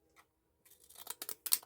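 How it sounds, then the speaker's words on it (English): Scissors snip through paper being cut into a tag shape during a craft session, a quick run of crisp close clicks and slices after a brief pause, quiet and alone. "I've got some scissors. I just want to cut them into"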